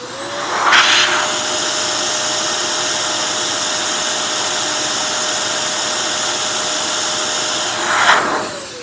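An XPOWER canister air blower runs on its high setting with a loud, steady whirring roar, spinning up at the start, holding a constant whine, then winding down near the end, with no voices.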